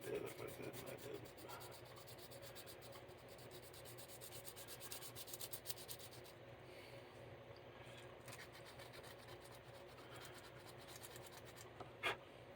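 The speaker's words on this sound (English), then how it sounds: "I just want to let the sandpaper do its work." Sandpaper rubbed by hand with very light pressure over a piece during a build, making a steady, close, scratchy hiss that continues almost without break, with a faint tap near the end.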